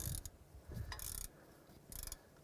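A ratchet snugging down exhaust manifold bolts on a 2004–2009 Dodge Durango makes close, quiet bursts of rapid clicking in three short runs separated by brief pauses.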